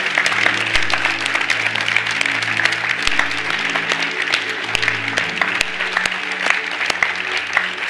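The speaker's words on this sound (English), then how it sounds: "Let's give the Lord a hand clap of praise right now." A church congregation claps in praise during a service, crisp scattered handclaps ringing out over a steady sustained instrumental tone, moderately loud and continuing the whole time.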